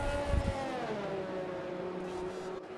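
Race car pulling out of the pit garage in RSF1 League Racing, a racing game set at a Vietnam qualifying session: a steady engine drone with a slowly falling tone, close and sustained, with commentary voices faintly underneath.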